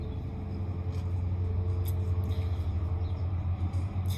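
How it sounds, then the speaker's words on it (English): A small school bus passes close by, its engine droning in a low, steady rumble, with faint rattles and clicks over it. "There's a school bus passing by."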